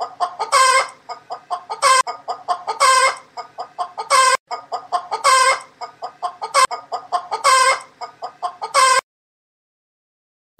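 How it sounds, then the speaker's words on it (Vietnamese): Up close, a hen clucks in a repeating rhythm: runs of short clucks each building to a loud drawn-out cackle, cycling for about nine seconds before falling silent. "Con gà mái."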